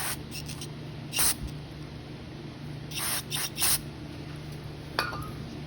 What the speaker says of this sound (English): and then what you want to do is spray it.